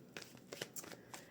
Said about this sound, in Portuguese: Vamos lá, baralhar muito bem.